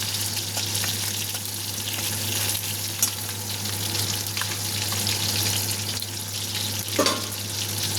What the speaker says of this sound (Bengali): যেহেতু মাছটা এত ফাটছে, এটাকে আমার ঢাকা উঁচু করতেই ভয় করছে